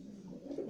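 A pigeon gives a short, soft low coo while it is held for a paramyxovirus vaccination.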